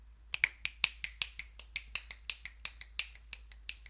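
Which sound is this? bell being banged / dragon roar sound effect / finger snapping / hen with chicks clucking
finger snapping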